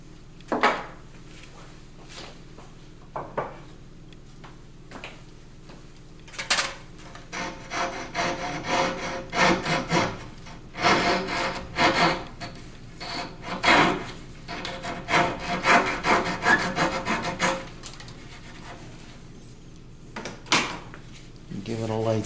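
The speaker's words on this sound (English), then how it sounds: "Trim off the excess here." Excess wood is trimmed off a wooden puzzle table in rough, uneven bursts of rasping and scraping, sparse at first and then denser and louder in the middle, with a voice speaking at times.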